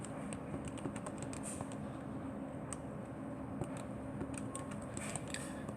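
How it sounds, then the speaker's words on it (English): Soft, rapid key taps on a calculator keypad during a math lesson, an irregular stream of light clicks close by under a faint room hum. "we'll type that into our calculators, and here I'm just going to do it in my calculator right now."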